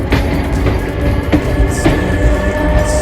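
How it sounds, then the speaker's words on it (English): An old solar-powered tourist train rolls past in Byron Bay, a steady broadband rumble with faint repeated clicks from the wheels over the rails, close by and continuous. "Yeah, it's like a tourist train. Look at that. Yeah, it's an old train."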